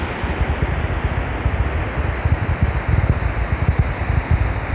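A SpaceX Falcon Heavy rocket launch rumbles from far off over a beach, a broad, steady roar and low crackle that fills the whole stretch with no break, much like heavy surf.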